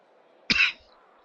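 A single short, throaty cough close to the microphone, standing out sharply against a faint steady hum.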